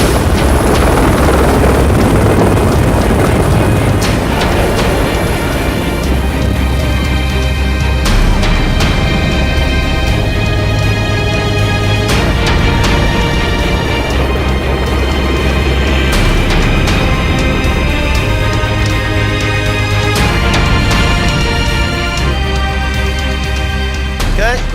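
Helicopter on Hanklip Mountain arriving to ferry golfers to a mountaintop tee, its loud continuous rotor thump and turbine whine steady and close for the whole stretch, with faint talk underneath.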